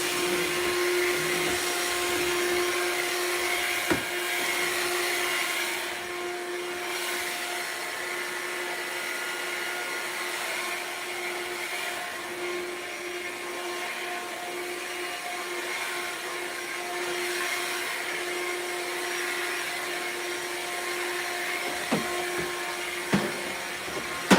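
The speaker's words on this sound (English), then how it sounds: "Apparently they have 3 vacuums." A vacuum cleaner runs steadily while a house is being cleaned, its motor giving a constant whining drone throughout with a few faint knocks, and no talking.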